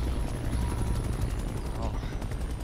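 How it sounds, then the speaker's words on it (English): Helicopter in the Call of Duty Black Ops Cold War beta, a steady close rotor chop with a continuous engine whine, loud and unbroken, mixed with game noise. "Oh, we get the chopper."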